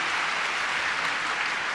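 A hall full of people at a spiritual gathering in Jipur claps steadily, a dense, even wash of applause that holds at full strength throughout with no voices rising above it.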